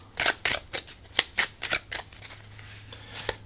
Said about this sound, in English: We're going to throw 2 more oracle cards from the minis, the Forest Fame mini cards.